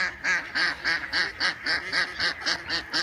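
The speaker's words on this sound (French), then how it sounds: "Des canards et des canards." Steady, rapid quacking from ducks nearby, evenly paced repeated calls with no pauses, loud and clear.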